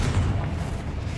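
A deep, rumbling blast from the Confringo fire spell in the Hogwarts Legacy game, a single heavy boom with a low sustained roar.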